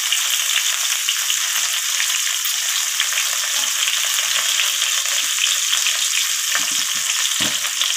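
Cauliflower pieces are stirred continuously as they fry in a pan, giving a constant loud sizzle with scattered scraping knocks, heavier near the end.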